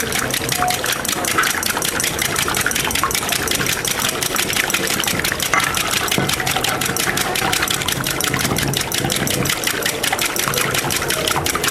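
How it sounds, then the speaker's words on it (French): A whisk beating steadily in a bowl as oil is poured in a thin stream, a fast rhythmic metallic clatter running continuously and loudly throughout. "Tout en fouettant, je verse petit à petit par filet et je suis en train de fouetter."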